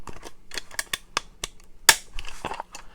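A plastic Star Wars toy cannon piece is fitted onto an ammo wagon with a string of sharp, close clicks and snaps, one especially loud crack near the middle.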